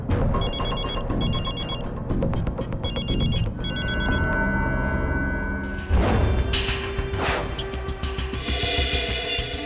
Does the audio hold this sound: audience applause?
no